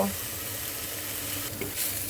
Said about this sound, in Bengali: এখন আমি ধনে পাতাটা সুন্দর করে কয়েক মিনিট একটু ভেজে নেব